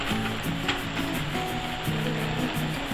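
Casserole ingredients sizzle and sear in a hot pan, a steady close frying hiss with soft crackle and stirring, no talking.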